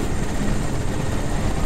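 A Crysis helicopter gives off a loud, unbroken rotor drone that fills every moment, steady and close, with no voices over it.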